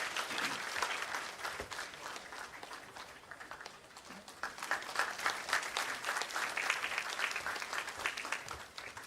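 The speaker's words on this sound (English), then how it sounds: "with a huge round of applause from all of you" At a Buddha Purnima ceremony, a large seated audience gives a guest of honor a sustained round of applause that dips briefly midway and then swells again.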